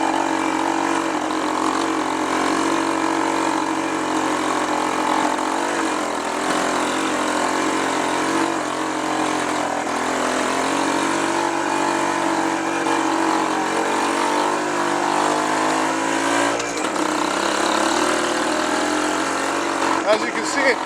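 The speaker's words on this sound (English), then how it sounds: "This 175 engine I put together is pretty healthy." A 1956 BSA Bantam Major motorcycle with a rebuilt 175 two-stroke engine runs steadily, a continuous buzzing drone holding an even level throughout, heard close with little variation.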